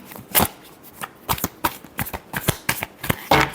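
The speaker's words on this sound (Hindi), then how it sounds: "Last shuffle." A deck of tarot cards is shuffled by hand up close, a run of sharp riffling bursts repeating in an uneven rhythm, about a dozen crisp flutters with short gaps between.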